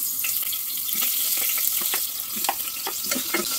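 Oil sizzles steadily in a pressure cooker, dotted with small crackles and pops throughout.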